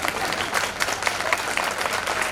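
An audience applauds continuously at a spiritual gathering, dense clapping from many hands held at an even, sustained level with a faint crowd murmur beneath.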